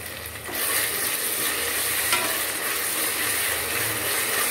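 Tomatoes frying in oil with coarse salt as they are stirred in a pan for dal rice bath, a steady close hiss and sizzle with light scraping, no voices.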